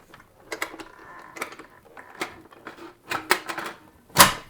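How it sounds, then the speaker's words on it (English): A kitchen mixer machine used for brioche dough is closed along with its lid, giving a series of close plastic and metal clicks and clunks with a sharper snap at the end. "just close the machine and the lid will follow"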